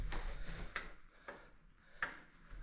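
Someone handles the door of a guesthouse room in the Zanskar Valley, India, trying to unlock it: a few scattered clicks and knocks from the latch and wood, with faint rubbing between them and no talk.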